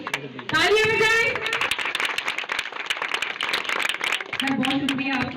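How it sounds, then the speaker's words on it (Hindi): Audience clapping at a women's gathering for the Pakistan Peoples Party, dense applause running throughout alongside an amplified voice talking over it at the start and end. "तालियां बजाएं।"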